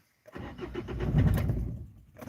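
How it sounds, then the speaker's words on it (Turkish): Car engine starting after a moment of silence, a cranking rumble that builds and catches, then settles toward idle, close and moderately loud. "arabayı da bu arada çalışırsa çalıştıralım"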